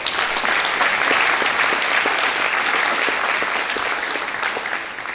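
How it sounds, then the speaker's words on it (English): Sustained round of audience applause at an agricultural expo awards ceremony honoring sponsors and Southeastern Farmers of the Year, dense and steady throughout, tapering slightly at the end. "Let's give all our new sponsors and our 2023 Farmers of the Year and all the past winners that are in attendance another round of applause."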